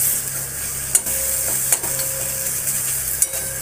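Masala spice paste with a little sugar sautés in a pan, a steady close sizzle with occasional sharp clinks of the stirring spoon against the pan.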